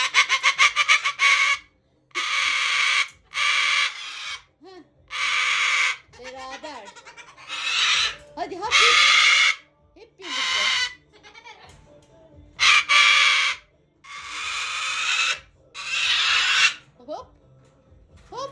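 Loud bursts of harsh squawking and screeching from a pet parrot close by, alternating with short pauses and someone talking in between.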